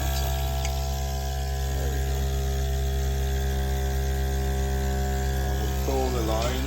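A milking machine runs a strong bleach solution through its suction cups and hoses during cleaning, a loud, steady droning hum with a faint gurgle of liquid near the end.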